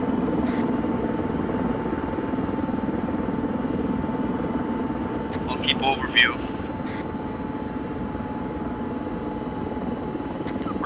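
Helicopter in a Metal Gear Solid V combat video game, a steady rotor and engine drone running throughout the mission, with a voice speaking briefly over it and a few short radio-like blips.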